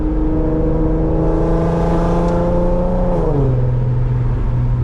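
A 400whp Infiniti Q50 with a loud exhaust drones close and loud through a hard pull at night, holding a steady engine note before the pitch falls off as the revs drop.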